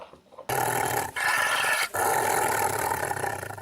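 A dangerous dog growls in deep, sustained, aggressive rumbles, loud and close, broken by two brief pauses for breath.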